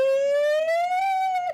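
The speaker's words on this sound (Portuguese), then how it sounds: "Cadê a sirene, DJ Careca?" A siren sound effect plays on a Brazilian sports TV show: a loud, clean wailing tone that slowly rises and holds for over a second, then cuts off abruptly, with no talk over it.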